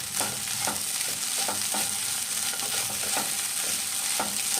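Curry leaves crackling and frying in hot oil in a pan, a steady close sizzle with sharp pops scattered through it and no talking.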